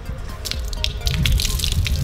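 Water is poured onto a T-shirt stained with sauce, making a steady splashing, dripping wash that stays close and grows a little louder in the second half.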